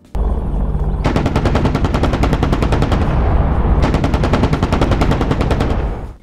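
Battlefield gunfire in the DCS combat flight simulator: a dense, loud roll of rapid automatic weapon fire in two long bursts with a short gap between them, no voices.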